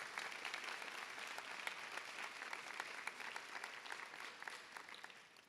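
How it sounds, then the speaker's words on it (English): A graduation ceremony audience applauds two student speakers, a fairly quiet but steady wash of many hands clapping that fades slightly toward the end. "Please join me in applauding Alexander and Jessir again for their"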